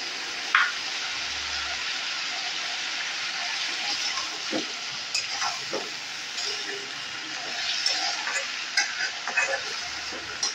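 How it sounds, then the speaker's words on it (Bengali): Vegetables for Bengali chochchori being stirred in a pan: a steady, fairly loud sizzle and hiss throughout, broken by occasional scraping knocks of the spoon against the pan. "ভালো করে নেড়ে চেড়ে মিলিয়ে নেব"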